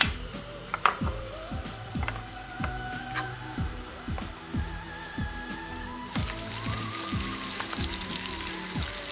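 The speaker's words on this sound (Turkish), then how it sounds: "Şemeni ile birlikte doğradığımız pastırma kavrulmaya başladı." Chopped pastirma cured beef and onion fry in a pan, a close, steady sizzle with scattered crackles and pops over a constant hiss, while a utensil knocks faintly now and then.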